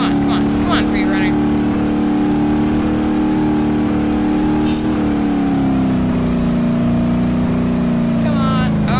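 Pre-runner truck in BeamNG.drive, stuck in trees, its engine revving in a loud, continuous drone that holds steady with slight pitch shifts for several seconds.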